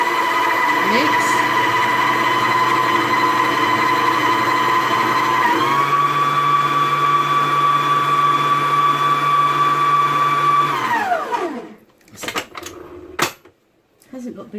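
Cheesecake ingredients whirring in an electric mixer for a baked cheesecake. A loud, steady motor hum shifts pitch partway through, then winds down and stops, followed by a few clattering knocks.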